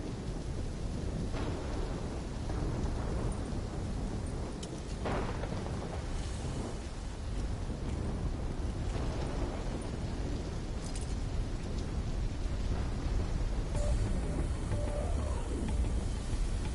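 A thunderstorm with heavy rain in a Call of Duty campaign, a dense steady roar of rainfall with deep rolling rumbles of thunder throughout, loud and continuous.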